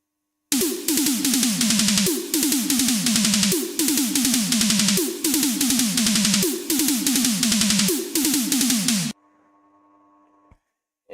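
A Eurobeat synth pattern with automated panning and a downward pitch sweep repeats in loud, bright bars for about nine seconds, then cuts to a faint, thin sustained tone.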